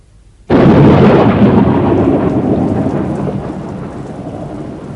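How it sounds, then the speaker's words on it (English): Heavy rain pours down steadily after a sudden start, a dense, loud hiss with a low rumble beneath it that continues throughout. "It was 9 o'clock, and it was raining."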